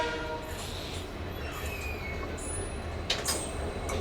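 Siliguri Intercity express hauled by a WDP 4D diesel locomotive passes through Bagrakot station, a sustained rumble of rolling wagons with wheel squeal and a short horn-like blast near the end.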